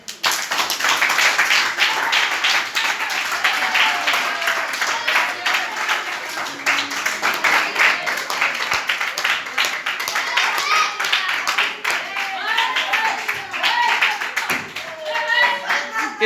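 School students in a meditation session at a government senior secondary school in Chakarpur, Gurugram clap together, a loud, close, continuous patter of many hands with some voices mixed in.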